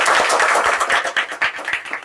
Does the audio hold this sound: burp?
no